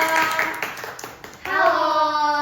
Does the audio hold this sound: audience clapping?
yes